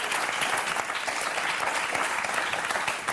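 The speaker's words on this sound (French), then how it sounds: "Bravo, on vous applaudit très fort." Studio audience of the French TV game show Motus bursts into loud, continuous applause, a thick wash of clapping that holds steady from start to finish.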